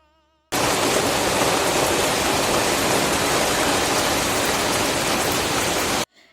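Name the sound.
rain falling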